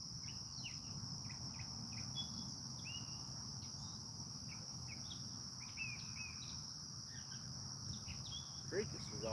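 Crickets chirp loudly and steadily through the night in a family cemetery, a dense unbroken insect drone with scattered bird calls over it, continuous and close.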